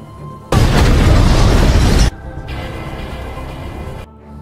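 A house explodes in a sudden, powerful burst that roars for over a second, then fades into a long, lower rumble before cutting off.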